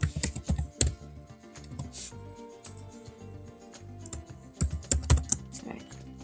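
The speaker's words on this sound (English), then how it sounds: "You can type any letters, numbers, any special characters." Typing on a computer keyboard while entering data into an Excel worksheet, with a quick, uneven patter of close keystrokes that comes in clusters with short pauses, and no talking.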